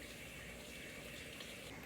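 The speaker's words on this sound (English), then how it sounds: "We'll let some cold water start running over that so I can touch them." Cold tap water runs steadily over freshly washed dishes in a kitchen sink, a dense continuous splashing rush, loud and close throughout the short stretch.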